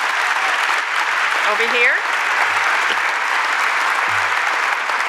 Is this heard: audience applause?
yes